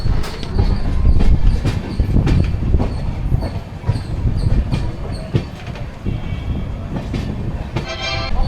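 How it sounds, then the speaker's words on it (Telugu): A train pulls into Dhone railway station on a Secunderabad to Goa run, with loud rumbling wheels, clattering cars and squealing brakes up close, and a short horn blast near the end. "ట్రైన్ ప్రజెంట్ ఆన్ టైంలో అయితే డోన్ అయితే వచ్చేసింది."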